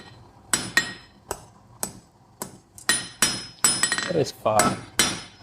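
Hammer blows on mild steel being bent at a forge to shape a key, about a dozen sharp ringing metallic strikes in irregular bursts, close and loud, with a brief spoken remark partway through.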